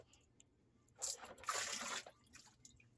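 A bar of soap drops into water with a brief watery splash and sloshing that lasts about a second, close and moderately loud against a quiet background.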